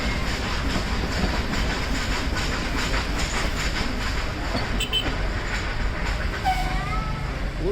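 The Nilgiri Mountain Railway toy train near Coonoor on the Ooty line runs along its track with a loud, continuous rumble and clatter close by, and a brief high tone rises near the end.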